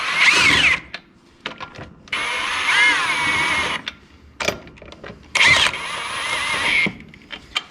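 A power tool, such as an impact driver or drill, runs in several short whirring bursts while spinning lug nuts down onto a car wheel during reinstallation, with brief gaps and clicks between runs.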